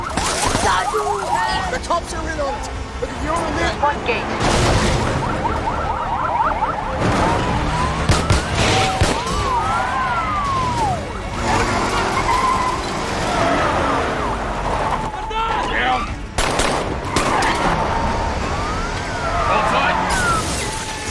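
A police siren wails in repeated rising and falling sweeps during a car chase in the film Sniper, mixed with engine roar, crashes and scattered voices.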